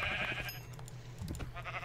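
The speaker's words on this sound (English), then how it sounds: "Sheep. More sheep." Sheep bleating in Minecraft, a few short bleats over a low steady game background, with no talking.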